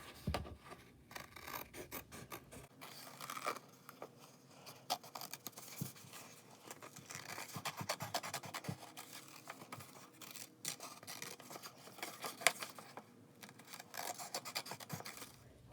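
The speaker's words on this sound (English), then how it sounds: "Remember, you turn the paper, not the scissors." Scissors snip and rasp through paper in a quiet, close, irregular series of cuts and rustles.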